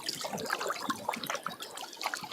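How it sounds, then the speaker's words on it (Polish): Wind-driven waves on the Vistula river splash and lap in irregular, faint bursts close by, with a continuous watery trickling texture and no voices. "Wiatr się trochę wzmógł, fala jest trochę większa."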